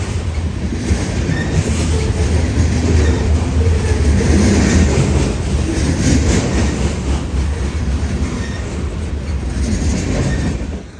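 A long Norfolk Southern manifest freight train of mixed cars rolls steadily past close by, a continuous loud rumble with rhythmic wheel clatter and faint squeal throughout.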